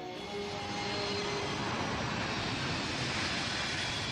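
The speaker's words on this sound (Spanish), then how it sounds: "Los aviones vuelan tan bajo que a veces es imposible oírse uno mismo" Low-flying airplanes beside Rome Fiumicino airport, a loud continuous jet roar filling the whole stretch without letting up.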